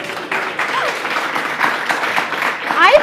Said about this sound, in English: Please continue the applause.